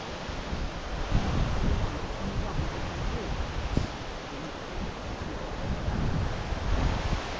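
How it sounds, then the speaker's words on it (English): Vasundhara waterfall near Mana Village, Badrinath, roars as a steady, broadband rush of falling water heard from a distance, mixed with wind buffeting the microphone. "the Vasundhara waterfalls over there"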